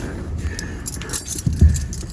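Car keys jangling and clinking in a vehicle, several quick metallic rattles over about two seconds with a couple of duller knocks near the end, close by and fairly loud.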